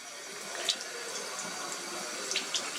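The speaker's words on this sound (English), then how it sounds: "That's probably about the right flow for the water" Water runs steadily through a Berkey filter while it is being primed, a continuous close trickle with a few brighter splashy drips.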